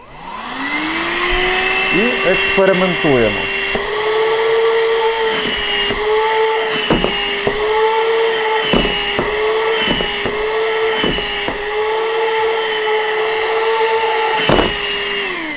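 A Voin V-30 robot vacuum cleaner runs with a loud steady whine and rushing suction, its pitch rising as it spins up and then dipping briefly several times, while a person speaks briefly.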